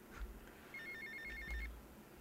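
A telephone rings in the video game Grand Theft Auto Vice City, one short electronic trill over a faint low background hum.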